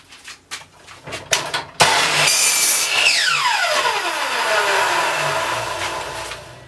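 A chop saw cuts angles on the bottoms of wooden legs. A few clicks come first, then the motor spins up loudly and whines down in a falling pitch, all close by.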